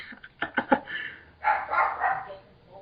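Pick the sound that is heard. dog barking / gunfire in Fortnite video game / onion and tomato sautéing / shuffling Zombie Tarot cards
dog barking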